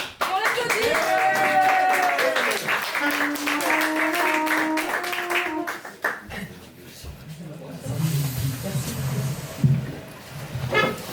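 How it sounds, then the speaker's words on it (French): A live audience applauds a performer named Sandrine as she is called up to open the third set of a stage show; a musical passage comes first, then a burst of clapping mixed with voices. "On l'applaudit."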